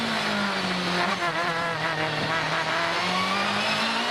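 A Dodge Viper and a Ferrari race at Assen in a supercar series, one engine loud and close, its wailing note climbing and dropping as it pulls through the gears out of the Strubben corner and up the back straight.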